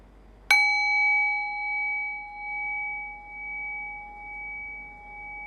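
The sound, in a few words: meditation bell ringing and decaying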